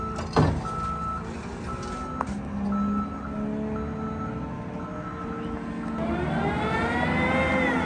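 A forklift lifts a totaled 2008 Jeep Wrangler X from the rear in a dusty lot, its engine droning steadily with tonal whines and a rising hydraulic pitch near the end, plus an early sharp knock.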